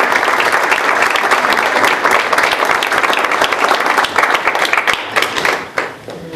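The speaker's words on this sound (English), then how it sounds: "Let's hear another round of applause for the notables." An audience at an inauguration ceremony applauding, a dense, sustained wash of many hands clapping that holds steady and then thins and tapers off near the end.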